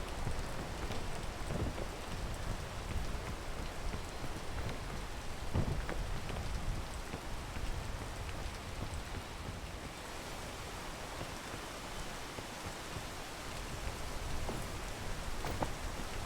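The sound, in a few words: rain in the video game PEAK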